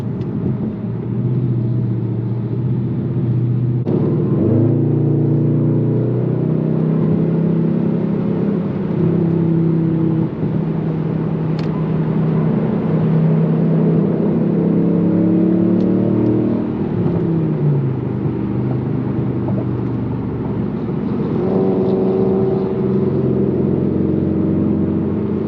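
A straight-piped Infiniti M56 drives through city streets, its engine droning loud and steady from inside the cabin, with several swelling revs and gear-change dips rising and falling over a constant road rumble.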